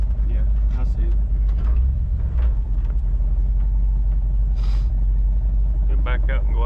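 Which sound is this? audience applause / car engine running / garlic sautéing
car engine running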